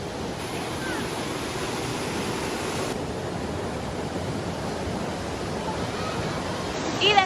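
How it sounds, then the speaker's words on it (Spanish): Continuous broadband rush of the Los Hermanos waterfall and pool in the Altos Cabriales river, steady and loud throughout with no clear breaks, a brief brighter splash near the end. "llegamos aquí al Pozo Los Hermanos o la Cascada Los Hermanos"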